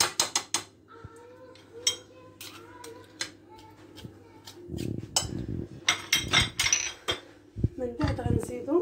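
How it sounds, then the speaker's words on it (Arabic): Half a kilo of kofta being stirred into boiled potatoes in a pot: a spoon clinks and scrapes against the pot, with brisker, louder scraping and stirring in the second half. No talk. "نحركو بحال هكا حتى تندمج مع بعضها"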